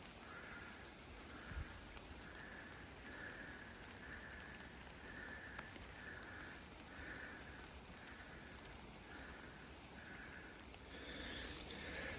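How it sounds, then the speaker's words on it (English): Steady rain patters on surfaces, faint and continuous, while hiking uphill on the Appalachian Trail, with a soft rhythmic scraping like footsteps or gear rubbing at regular intervals. "Hiking uphill in the rain."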